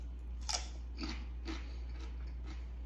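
Crisp bites into a raw cucumber seasoned with salt and pepper, four or five distinct crunches spaced about half a second apart, close up and fairly quiet against a steady low hum, with no talking.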